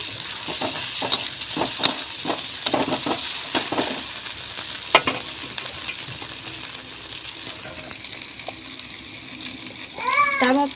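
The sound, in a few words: stir-frying ginger, garlic and green chilli in a pan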